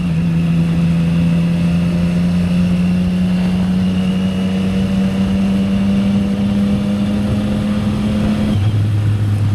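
A Triumph big bike fitted with an SC-Project exhaust drones loudly and steadily while being ridden. The engine note climbs slowly, then drops sharply near the end as the revs change.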